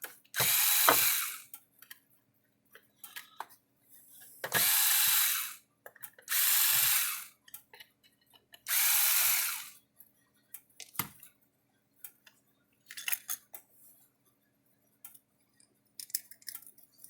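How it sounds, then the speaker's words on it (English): A power tool whirs in several short, separate bursts as screws are loosened on a Speedrite 12000i fence charger energizer, with quiet clicks and handling noises in the pauses between. "we need to take these screws, just going to loosen them up a little bit."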